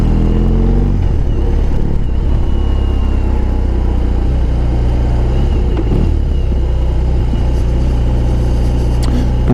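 A BMW R18 motorcycle's big engine rumbles steadily and close while riding in slow traffic, a deep continuous low drone with faint road noise and no talking.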